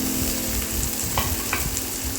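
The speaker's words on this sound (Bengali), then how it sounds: "এবার দিয়ে দিচ্ছি ক্যাপসিকাম কুচি।" Chopped capsicum and green chilli sizzling in a hot pan for chire polao, a steady close crackling fry with light stirring scrapes and no voices.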